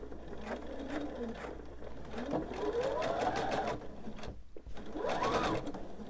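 Sewing machine stitching the seam of a homemade fitted crib sheet, a steady close rhythmic whir with rising and falling pitch as speed changes and a brief pause midway.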